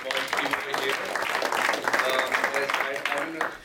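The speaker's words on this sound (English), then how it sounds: "Give a big round of applause to Kiran and our small team over here." A crowd applauds steadily, dense clapping filling the whole moment at moderate volume, with a voice speaking over it.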